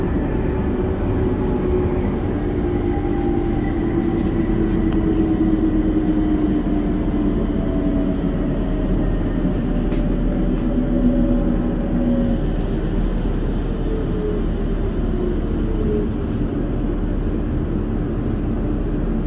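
A Rotterdam metro train at Hoek van Holland Strand station, with a steady low rumble and rising and falling motor whine throughout, loud and continuous with no talk.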